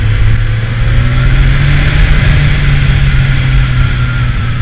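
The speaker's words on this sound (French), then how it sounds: "Alors lui en plus il a des demi-lignes Accra en carbone. Donc là on a un petit son très feutré, très sympa." Kawasaki Z1000SX motorcycle with carbon Akrapovic half-line exhausts, riding with a loud, steady, muffled engine drone and constant wind rush, no voices.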